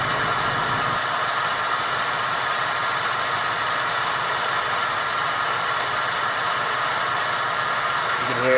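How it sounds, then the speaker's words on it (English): A Buick Roadmaster's LT1 engine idles with a surging misfire, a steady dense rumble that holds level throughout with a slight change near the end, no voices present. "You can hear the engine surge."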